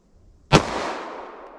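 One sharp, loud gunshot from a 9mm pistol with a 5-inch barrel firing a +P external hollow point round, a single close crack followed by a short decaying echo, with no talk.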